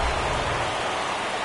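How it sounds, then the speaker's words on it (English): Steady rain pours down over a baseball game, a dense, even hiss that fills the whole moment with no break, heard close and alone. "This rain is not letting up."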